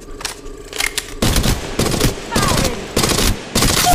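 Bursts of automatic gunfire from the mobile shooter game Apex Legends Mobile come in several loud, evenly spaced volleys, with brief gaps between them and faint game effects underneath.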